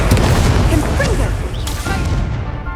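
A Confringo spell explodes in Hogwarts Legacy, booming blasts and crackling bursts packed densely over roughly three seconds, loud and close, mixed with a voice.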